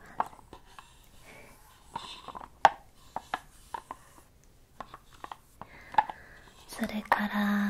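Hinoki wooden beads moved one at a time, giving soft, close clicks and taps spaced irregularly, with whispering over them and some rubbing near the end.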